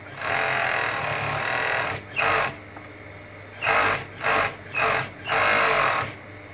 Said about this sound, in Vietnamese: Cái lúc vắt sổ nó ảnh hưởng đến chất lượng sau khi mình may rất là nhiều